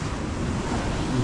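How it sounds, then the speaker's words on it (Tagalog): Ocean waves washing onto a shore, a steady broadband surf wash mixed with wind noise on the microphone, fairly faint and continuous over a brief moment. "Sa gabi, nalaki ang alon."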